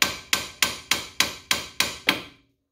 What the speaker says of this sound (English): hammer. Don't go crazy with it. This is cast iron, so it can break.